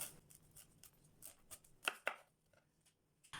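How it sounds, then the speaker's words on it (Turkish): A knife cutting through the stem of a large head of broccoli to separate the florets, a few quiet sparse taps and two sharper crunching cuts near the middle, faint and close. "Sapını kesip çiçekleri ayıralım"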